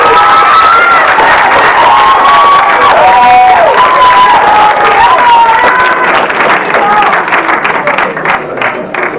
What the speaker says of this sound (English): it'd be wonderful if we could have a round of applause